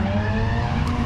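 Drift car tires skid and squeal loudly and continuously during a sim-driving crash, with the engine roaring underneath.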